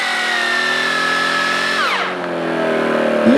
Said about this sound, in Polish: wiertarkę też nie daje rady, zobaczcie, nie przewierciłem się na drugą stronę